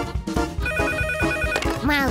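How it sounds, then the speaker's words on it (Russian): A telephone rings in a children's cartoon as a loud, repeated electronic trill over background music and effects, ending in a rising tone. "Роза, какой-то мальчик звонит."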